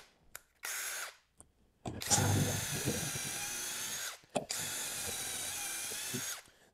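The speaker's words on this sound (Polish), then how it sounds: "Również tą wiertarką, wkrętarką bez problemu poradzimy sobie w metalu" WORX Switchdriver 2.0 WX177 20V cordless drill-driver in second gear drilling into metal: two close, steady high-pitched whining bursts, the second one longer and louder with some grinding.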